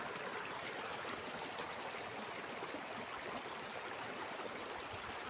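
Water in a stream rushes steadily in a continuous, even wash, faint and with no voices.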